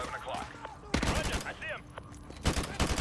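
AK rifle gunfire in Modern Warfare 2 on PS4, with two sharp bursts of rapid shots, the second longer and rattling, heard under a player talking and other game noise.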